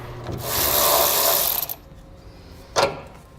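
A ratchet wrench loosening a 12mm nut beneath a 2014 Toyota Tundra pickup during a fifth wheel hitch installation, with a sustained burst of close mechanical clicking and rubbing followed by a short sharp clack.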